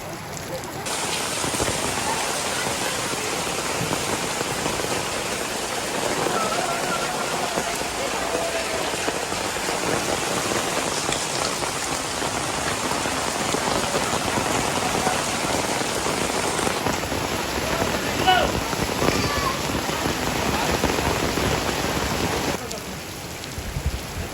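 Steady, heavy rain pours down continuously in Mansehra, Pakistan, a dense hiss of drops hitting surfaces close by, with no voices over it.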